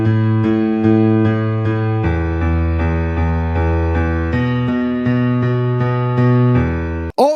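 A piano left-hand part of just three sustained low notes, played in a slow repeating pattern for a simple blues tune, clear and close, with a short vocal whoop at the very end.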